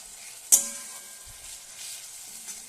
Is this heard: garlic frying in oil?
yes